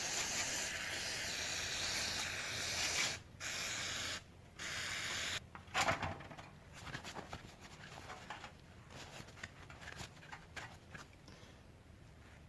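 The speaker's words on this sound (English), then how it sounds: "I finished cleaning off the outside of the carburetor." A Briggs and Stratton carburetor has caked dirt scrubbed off its outside with a steady close rasp and hiss, broken by short pauses. Quicker, lighter brushing strokes follow.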